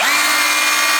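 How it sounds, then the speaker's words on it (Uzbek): Rotary hammer perforator switched to drill mode, spinning up with a steady high-pitched whine that holds loud and even without pause. "Sverlo rejimi."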